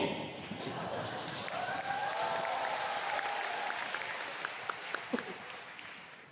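Audience applause at a leadership training meeting in Kuala Lumpur fills the room in a steady, fairly loud wash of clapping that fades slightly toward the end, with a few sharper claps standing out.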